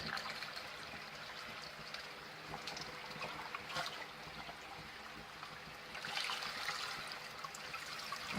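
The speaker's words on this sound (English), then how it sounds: "All right, we got some water going over." Water overflows from cups while an aquarium filter is being primed, producing a faint, steady trickle with small splashy swells and no voices.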